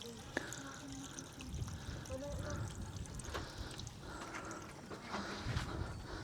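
Water pours and trickles steadily into a pit being dug for a piggery, with occasional clatters and faint background voices mixed in.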